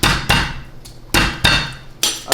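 Garlic cloves are smashed under a hard blow in a home kitchen, giving four sharp, loud, close thuds spaced unevenly, each ringing out briefly before the next, with no talk.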